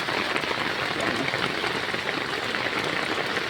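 Steady, dense rain pours down over a flooded farm plot of corn and garden crops during a typhoon, a continuous broadband hiss with no gaps, close and fairly loud throughout.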